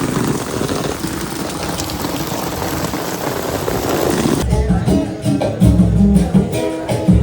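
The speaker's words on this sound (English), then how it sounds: "Our rainy day has continued." Steady, dense rain pours down in Brazil throughout, shifting partway to a louder, closer downpour drumming on a nearby surface.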